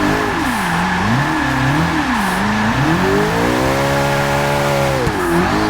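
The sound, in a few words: mid-engine car revving in fourth gear, Forza 6 video game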